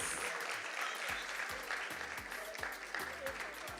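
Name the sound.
round of applause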